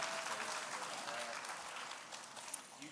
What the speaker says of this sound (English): Let's give another round of applause, y'all.